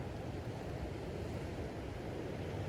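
Low, rolling water sound, like surf washing in, a steady rumbling swell with no voices.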